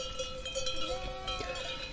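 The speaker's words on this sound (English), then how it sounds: "It was the bleating of sheep and their tinny bells." Sheep bleating with tinny bells clanking, wavering bleats over a light metallic jingle, close and fairly clear.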